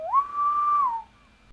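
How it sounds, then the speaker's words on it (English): Bosun's whistle sound effect for a ship-wide hail: a single shrill pipe that rises quickly, holds steady for under a second, then drops away, loud and alone. "Bosun's whistle. Yeah, it's made after a bosun's whistle."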